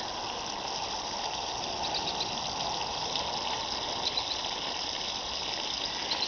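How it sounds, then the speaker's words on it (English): A garden hose pours water into an outdoor bathtub in a backyard, giving a steady close gushing splash like a small waterfall, continuous and unaccompanied by voices. "This is my hose, sounding like a waterfall."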